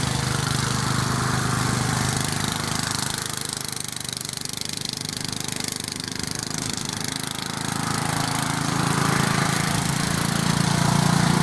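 A Briggs and Stratton lawn mower engine runs loud and steady while cutting thick grass at maximum height, its drone rising and dipping slightly as the load changes.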